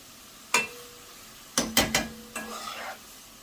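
Mushrooms and onions sautéing in a pan are stirred with a utensil, giving a few distinct scraping clatters and brief sizzles, one alone then a quick cluster, over a quiet background.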